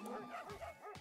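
A dog in the video game Bokura lets out a few quick yips and barks in rapid succession, faint and brief.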